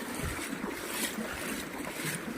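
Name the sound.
floodwater flowing during heavy rain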